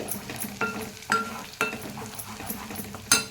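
Ingredients fry in oil in a pan with a soft sizzle, broken by several sharp clinks and scrapes of a spoon stirring against the metal.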